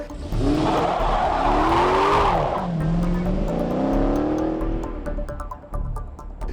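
A 2012 Dodge Challenger SRT8 392 with its 6.4-liter V8 accelerates hard, loud and close, the engine note rising through the revs with a rasping roar and tire noise, with no talk over it.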